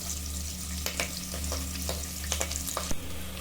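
Onions, green chilies and curry leaves frying in oil for mutton curry, a steady close sizzle with occasional stirring clatters and scrapes of the spoon in the pan.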